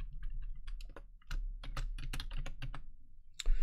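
Fast typing on a computer keyboard, a dense run of close, crisp key clicks with uneven rhythm over a low steady hum, a louder clack at the end.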